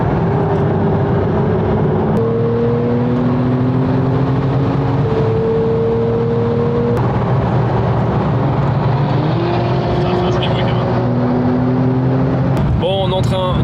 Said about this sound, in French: Bon, on est en train de rouler direction Bordeaux.